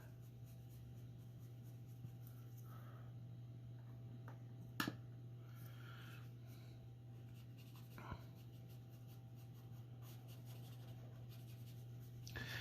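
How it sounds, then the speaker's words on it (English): Soft scratchy strokes of a graphite pencil on paper, blending shading on a portrait drawing with a feathering technique, faint and close, with quiet continuous rubbing, a couple of small clicks and a steady low hum underneath. "Using the feathering technique, where I'm just pulling the value up from the darkest area to the lightest area."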